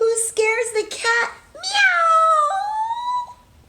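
A woman reading a children's picture book aloud imitates a cat with her voice, giving a couple of drawn-out, rising and falling meows up close.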